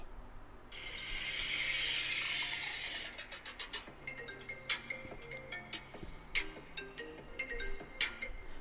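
A short iPhone ringtone plays, with a hissy swell followed by a quick run of clicky, ticking tones in a steady rhythm.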